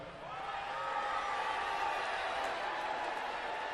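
A dense arena crowd roars and cheers steadily at a WWE wrestling event, a broad sustained wash of voices that swells slightly and holds loud throughout.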